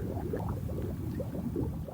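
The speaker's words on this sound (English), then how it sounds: "There's just an invisible world underneath in this river that you're listening to" River water flowing in a steady, continuous rush, with soft gurgles and bubbling churning beneath the surface, moderately close and unbroken, with no voices.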